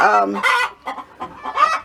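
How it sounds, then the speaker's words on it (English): Several chickens cluck and cackle close by in a backyard rabbitry, loud, busy and overlapping in bursts across the whole stretch. "I hope you can hear me other than through the cackling of the chickens"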